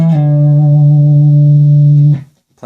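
Electric guitar lick from a song lesson, one held distorted note sustaining steadily for about two seconds before cutting off, then a brief new attack at the end; the hammer-on, pull-off and slide are not clearly distinct.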